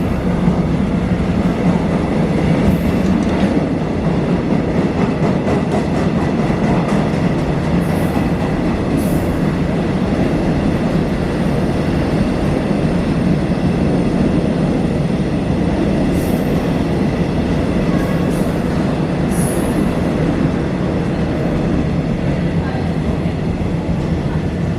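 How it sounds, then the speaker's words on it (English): A Korean Mugunghwa passenger train rolls into Suwon station, a steady loud rumble of wheels and carriages with faint rail clatter and occasional high squeals throughout, continuous and close. "This train is rolling up, but it is not my train, or it is not going where I need to go."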